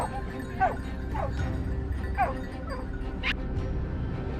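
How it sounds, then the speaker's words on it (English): Hunting dogs bark and yip in a few short, spaced calls at a distance across a field during a wild boar hunt, faint over a steady low rumble. "the barking of the hunting dogs made me alert"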